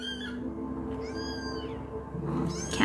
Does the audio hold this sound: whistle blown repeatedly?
no